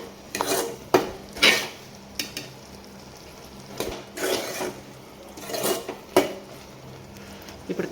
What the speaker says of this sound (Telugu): వేసిన తర్వాత ఇదంతా ఒకసారి ఇలా కలుపుకోవాలి.